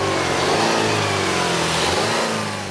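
A 2010 Buick Regal with GM's direct-injected 2.4-litre Ecotec four-cylinder revs up steadily and loudly under acceleration, its engine note rising and holding close throughout, with no talking.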